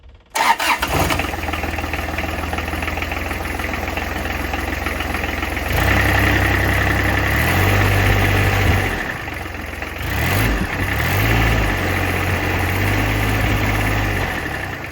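A Kubota diesel engine cranks and catches, then settles into a steady, loud rumbling idle through a muffler, with a brief dip and revving partway through.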